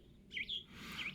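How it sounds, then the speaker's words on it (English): A bird flying close by at an outdoor fossil dig site gives a few quick, high chirps, fairly faint and alone with no talking. "I got a bird flying near me"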